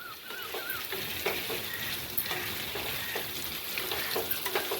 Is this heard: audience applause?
no